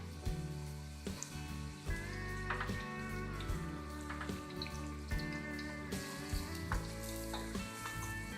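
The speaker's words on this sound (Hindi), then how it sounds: "अब हम कैरेट फ्राई करेंगे। गाजर 3 to 4 पीसेस हमने लिए हैं, इनको जूलियन कट कर लिया था।" Three to four julienne-cut carrots fry in a pan, a quiet steady sizzle with scattered crackles and stirring knocks over a sustained tonal background.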